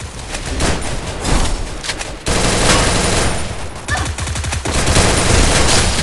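Rapid bursts of automatic gunfire crackle through a Free Fire mobile game match, dense volleys and fusillades running almost continuously with brief gaps, loud and close, with no clear talk over them.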